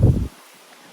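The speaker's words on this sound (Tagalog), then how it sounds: "Mahangin!" A short, loud gust of wind buffets the microphone outdoors by a car trunk decorated for a birthday surprise, with a low rumble, then drops away to near quiet.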